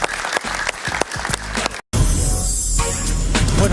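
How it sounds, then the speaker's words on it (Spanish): Studio audience applause greets a guest returning after a commercial break on a Spanish-language evening talk show, with a burst of loud clapping, then a brief cut of silence before dense, continuous applause fills the rest. "Un aplauso para él."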